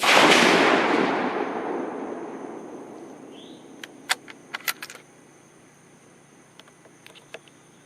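A .308 Win rifle fired without a suppressor: one loud report at the start with a long rolling tail, followed seconds later by a few sharp metallic clinks.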